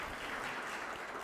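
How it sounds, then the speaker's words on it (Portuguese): Brief burst of audience applause for Letícia, a soft, even patter of many hands clapping at a fairly faint level with no voices over it. "Palmas para a Letícia, gente"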